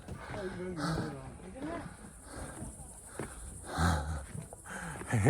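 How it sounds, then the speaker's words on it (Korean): Heavy, rapid panting breaths from a hiker climbing a steep trail up Moasan mountain in Yanji, China, rasping close and fairly loud in a steady rhythm, with outdoor background noise. "숨소리가 숨소리가 엄청 가파른데"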